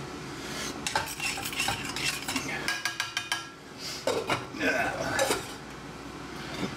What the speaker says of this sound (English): Make sure I stir them actually.